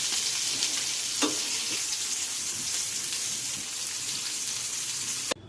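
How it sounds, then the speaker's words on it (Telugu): Chicken pieces for tikka biryani sizzle steadily in hot oil in a pan, a dense continuous frying hiss with a brief clatter near the start and a sharp knock just before it cuts off. "ఈ చికెన్ని ఈ విధంగా 2 సైడ్స్ తిప్పుకుంటూ ఫ్రై చేసుకోవాలి"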